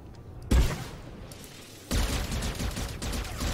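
Missile attacks fire in the video game Star Wars: The Old Republic, with a mercenary's arsenal launching a sudden loud burst followed by a sustained rumbling barrage of blasts and booms, close and dense.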